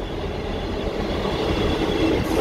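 A Class 158 diesel multiple unit passing close at Weston, a steady loud rolling rumble with rail clatter throughout.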